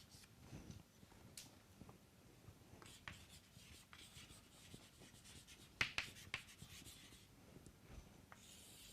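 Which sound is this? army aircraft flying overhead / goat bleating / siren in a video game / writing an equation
writing an equation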